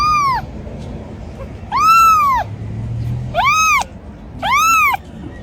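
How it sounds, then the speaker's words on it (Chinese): A tiny stray kitten gives four loud, clear meows close by, each a rising-falling cry, spaced by brief pauses. "小奶猫。"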